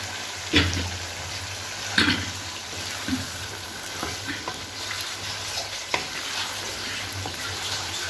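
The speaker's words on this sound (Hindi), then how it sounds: "अब हम इनको अच्छी तरह से भूनेंगे" Finely chopped potatoes frying in a pan, a steady close sizzle with repeated scraping stirs and occasional clacks of a spoon against the pan.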